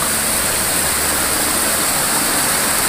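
Clear river water rushing steadily through a forest, loud and close, a dense continuous roar with no breaks and no voices.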